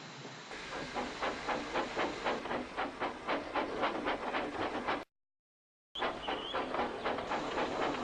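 A steam locomotive puffs away as a story sound effect, with steady rhythmic chuffs and hiss at a fairly loud level, broken by a brief silent gap before the puffing resumes.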